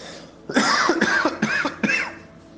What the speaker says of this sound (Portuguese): Por isso que eu tossi.